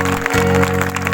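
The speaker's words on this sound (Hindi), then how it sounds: "ताली बजाएंगे जोर से" An audience at a Christian prayer meeting claps loudly together, a dense steady roar of hands with a sustained tone beneath, continuous for a short burst.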